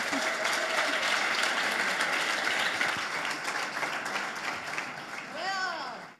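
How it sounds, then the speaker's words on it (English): Audience applause at an investors day for urtech and fintech startups, a steady broadband wash of clapping that holds throughout and thins slightly near the end, with a brief whistle-like tone late. "Applause."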